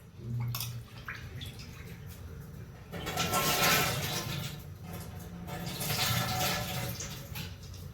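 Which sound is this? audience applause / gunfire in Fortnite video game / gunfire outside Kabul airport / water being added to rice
water being added to rice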